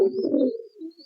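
A pigeon gives a single short, soft coo up close in a quiet setting, a low throaty burble that fades within about a second.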